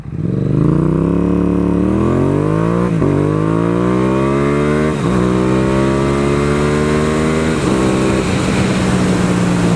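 A Yamaha XSR700 ABS motorcycle accelerates hard and loud, its engine whine climbing repeatedly through several gear shifts with brief dips between each rising pull.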